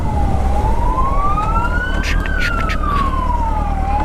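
A police siren wails in slow rising and falling sweeps over steady traffic and engine rumble, loud and close, heard from a Suzuki GSR600 motorcycle.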